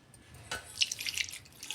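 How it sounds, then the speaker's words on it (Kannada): Water is poured into a mixer jar of soaked grains and flattened rice for multigrain dosa batter, a faint, brief splash and trickle in a quiet kitchen. "ಇವನ್ನ ಮಿಕ್ಸಿ ಜಾರಿಗೆ ಹಾಕಿ ನೀರು ಹಾಕ್ಕೊಂಡು"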